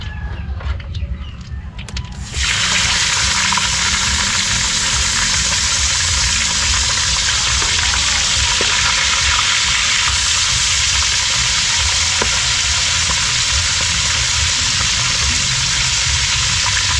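Steady, loud sizzling of tilapia frying in hot oil, a dense crackling hiss that starts abruptly and continues unbroken throughout.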